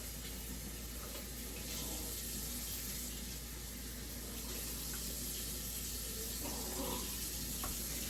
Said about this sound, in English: You just want to give it a little bit of warm water.